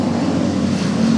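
A tricycle passes along a road in the Philippines, its small engine giving a steady low drone at fairly close range, with no one talking.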